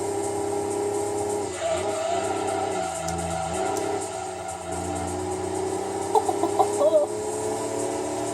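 A Mini Cooper drives in the racing video game Gran Turismo 2, its engine a steady moderate drone with brief tyre squeals and a few sharp chirps late on, and a voice faintly in the background.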